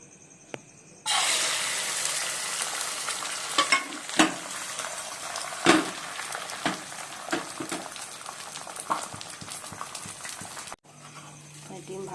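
Steady, crackling sizzle of an egg frying in a hot pan, with occasional soft clinks and pops, running for about ten seconds before cutting off.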